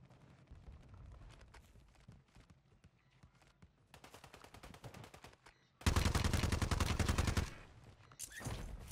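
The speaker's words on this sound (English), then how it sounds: "I just shot at you." Gunfire in Call of Duty Warzone on Rebirth Island: scattered shots, then dense automatic bursts, with a loud, sustained volley near the end followed by more rapid fire.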